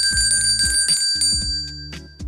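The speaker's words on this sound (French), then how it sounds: "chacune de mes interventions sera encadrée par cette sonnerie" A bright bell jingle rings out several times in quick succession, with clear, sustained metallic tones over a lower chiming pattern, loud and close.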